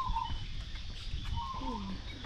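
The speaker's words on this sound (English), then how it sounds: "Lots of finches." Finches call in a zoo aviary of Kimberley Coast birds at Australia Zoo, with bright chirps and short rising and falling whistles scattered over a steady low background hum.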